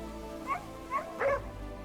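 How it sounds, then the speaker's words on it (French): A dog in the Crimson Desert video game gives three short barks or yips, close and moderately loud, the last a little longer and louder, over a low steady background drone. "Là, on a un chien."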